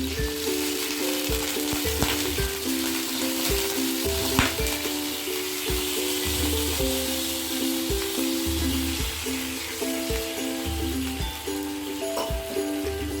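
Sizzling hot tempering of curry leaves, sesame, sugar, lemon and asafoetida for khaman dhokla as water is added bit by bit, a loud continuous close crackle and hiss with a steady hum underneath.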